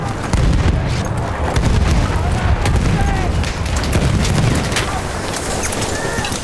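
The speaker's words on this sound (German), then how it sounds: "Ich werf eine Granate!" Grenade explosions and gunfire in Battlefield 1 gameplay, heavy booming blasts and rumbling battle noise, loud and continuous with voices shouting over it.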